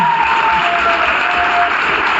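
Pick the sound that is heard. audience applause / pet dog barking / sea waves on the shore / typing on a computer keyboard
audience applause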